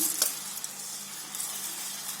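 Washed jeeraga samba biryani rice tipped into a pot of prawn biryani, a soft hissing, sizzling wash with a brief clink near the start, steady and close with no talk.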